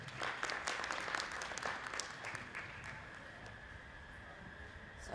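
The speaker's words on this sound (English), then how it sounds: "A round of applause for John," Audience applause at a medical conference: a steady wash of many hands clapping across the room, denser at first and thinning slightly toward the end, with a faint tonal hum underneath.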